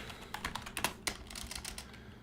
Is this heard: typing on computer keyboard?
yes